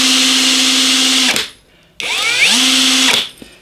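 A battery drill motor running on an 18 volt power supply whines steadily, stops briefly, then spins up again with a rising pitch before cutting off, loud and close.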